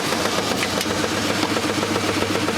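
A vintage washing machine on its spin-dry cycle, drum wobbling from a misaligned pulley, gives a steady loud motor hum and rattle that holds evenly throughout with no talk.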